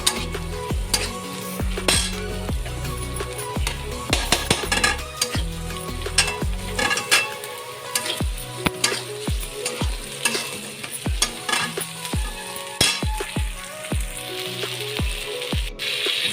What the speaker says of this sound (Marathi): आता इथे आपला कांदा चांगला भाजला की मग आपण टोमॅटो घालूया